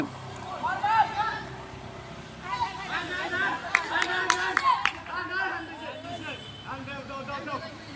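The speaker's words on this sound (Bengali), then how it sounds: "চারিদিকে শুধু মোহর মোহর করতালি চলছে" Scattered applause and clapping from a stadium crowd at an Argentina versus Brazil football final in Washington DC, mixed with background chatter, while a voice talks over it throughout.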